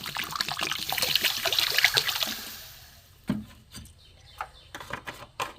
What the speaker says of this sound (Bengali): এবার আমি আস্তে আস্তে জল দিয়ে দেবো।